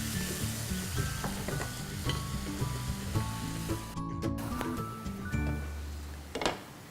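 Onions and tomatoes for a Sindhi lotus stem sabzi sizzle in a pan, a steady crackling fry with occasional scraping stirs and clinks of a utensil, close and moderately quiet.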